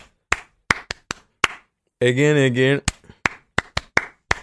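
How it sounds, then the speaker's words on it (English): A few people clap for themselves in sharp, separate bursts with gaps between them, close and crisp, broken by a short spoken word and a sustained vocal tone in the middle. "Okay, so clap for yourself."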